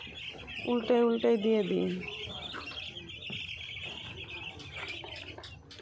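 Chickens on a small Bangladeshi poultry farm, with a short run of loud, bright clucks early on and softer background chirps and fowl calls continuing throughout, as someone speaks briefly over them.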